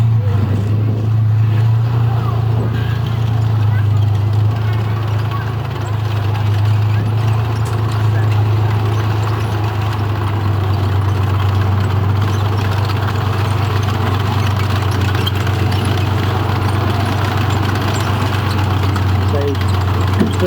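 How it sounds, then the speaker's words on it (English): A Czech-built Soviet T-54 main battle tank runs its engine with a steady, deep, loud rumble at a museum display, constant throughout, while someone talks over it. "it's a Soviet T-54 main battle tank."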